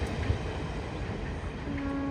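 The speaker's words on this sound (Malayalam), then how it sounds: "അങ്ങനെ ഈ ട്രെയിൻ ഇവിടുന്ന് പോയി." A train pulls away from Nileshwaram railway station with a steady, moderately quiet rumble of wheels and carriages and a faint high whine creeping in toward the end.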